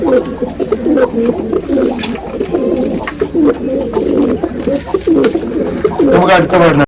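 Pigeons coo in a loft, giving repeated throaty, rolling calls close to the microphone, mixed with rustling and flutter, while a person talks intermittently.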